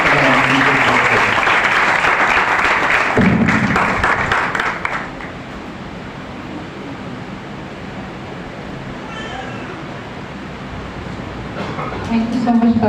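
Church congregation clapping to welcome a speaker, a dense, loud wash of applause for the first few seconds that thins out and fades, with voices coming in underneath toward the end.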